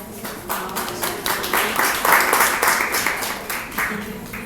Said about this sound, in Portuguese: Com as nossas palmas para ele.